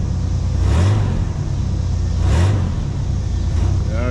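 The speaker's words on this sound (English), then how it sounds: "Let's give it a little bit of gas." A 1991 Chevy S-10 pickup's worn engine revs up twice under light throttle, a loud, close rumbling roar that swells and falls back to a steady idle between bursts, with no talking.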